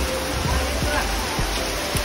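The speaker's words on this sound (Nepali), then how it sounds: "यो कोर्टको छेउमा कत्रो धर्के पानी परिरहेको छ हेर्नु" Heavy rain pours down beside a court, a dense, even hiss of falling water that stays constant and fairly loud from start to finish.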